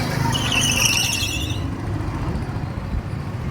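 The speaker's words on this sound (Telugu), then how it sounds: "ఇది కార్ రేస్ తీసాను" Go-karts race around a track, their high-pitched engines droning loudly at first and then fading into a steady rumble with faint squeals.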